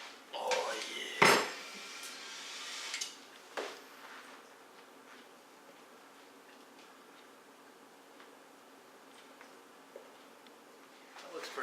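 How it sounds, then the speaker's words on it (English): Homemade marshmallow mixture scraped from a bowl into a pan, a few clanks and scrapes of a utensil against the dish near the start, then a quiet room with faint ticks and small knocks. "we're going to dump it in our pan now"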